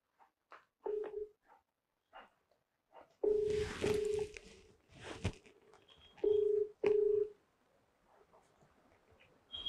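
A mobile phone dials out with short electronic key tones and then a ringback tone, heard in separate bursts with quiet gaps between them and some faint background noise.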